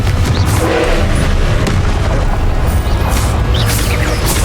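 A Confringo explosion spell in the Hogwarts Legacy video game erupts as a loud, dense booming blast that fills the whole moment, with crackling debris and rumble continuing throughout.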